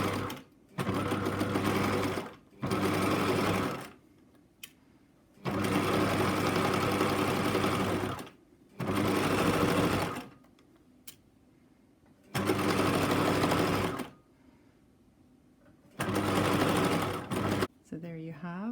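A sewing machine stitches along a fabric edge about 3 or 4 millimeters in, running in six loud, steady bursts of a few seconds each with short quiet pauses between them.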